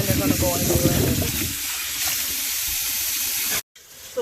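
Tomatoes, habanero peppers and onions rinsed under running tap water, a steady hissing gush close by, with a voice talking over it at the start before the water noise continues alone and cuts out briefly near the end.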